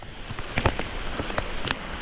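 Heavy rain pours over the Ngongotaha Stream in New Zealand, a dense close hiss with many sharp drop patters striking nearby surfaces. It continues without a break and no one speaks.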